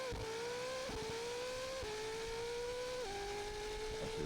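A hypercar launches hard, its engine screaming as the pitch climbs steadily and then drops sharply at each quick upshift, three or four gear changes in a row, loud and close with no talking.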